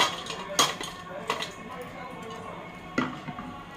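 Fried salted fish pieces set onto a plate, heard as a few soft clinks and taps of utensil on dishware spaced over a few seconds.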